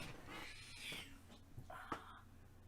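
A hungry house cat waiting for its breakfast, making soft raspy wheezing cries with one sharper sound near the end, close by and fairly quiet over a low steady hum.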